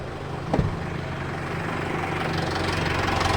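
Mitsubishi Pajero idling with its radiator fan spinning, a steady mid-low engine hum with an even whirring drone that grows slightly louder, plus a brief knock near the start.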